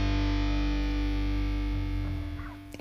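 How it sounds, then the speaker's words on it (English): A singer's voice heavily distorted by an effects unit, buzzing and harmonically dense over loud driving rock instrumentation with frantic drumming, sustained throughout before tailing off slightly at the end. "And adds distortion to it, to his voice."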